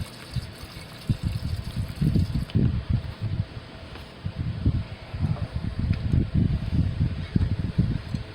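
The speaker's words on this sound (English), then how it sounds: "rinse it a few times" Water swirls and trickles over refined karat gold scrap during rinsing, with irregular sloshing bursts, some gentle pouring and light clinks, fairly close and without talk.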